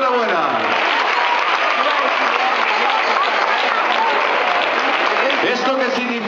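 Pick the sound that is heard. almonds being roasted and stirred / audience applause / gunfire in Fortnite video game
audience applause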